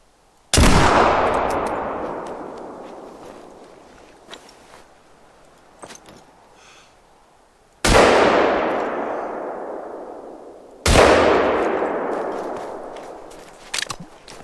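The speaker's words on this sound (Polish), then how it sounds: "poszły te strzały" Three sharp rifle shots in the video game theHunter: Call of the Wild, fired from a hunting stand at a moose, each with a long decaying echo, spaced several seconds apart, with faint clicks and shuffling between them.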